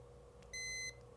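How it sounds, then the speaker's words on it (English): A nERGY siren controller sounds its periodic reminder beep, one short bright electronic tone of steady pitch standing out clearly over a low background hum. "we'll hear a beep."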